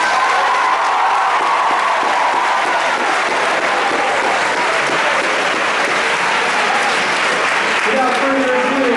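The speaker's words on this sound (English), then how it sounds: "assist me in a round of applause for Miss Dady and Mrs." A large audience at an evening event applauds loudly and continuously, a thick wash of clapping with cheers and whoops mixed in throughout.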